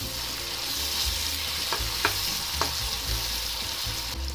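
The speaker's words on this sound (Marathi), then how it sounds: "आता आपण याच्यामध्ये बारीक कट केलेला एक टोमॅटो टाकणार आहोत, तो पण छान परतून घेणार आहोत।" Finely chopped tomato sizzles in hot oil with onion and garlic while being stirred for dal palak, a steady close frying hiss with a few light scraping taps of the spoon.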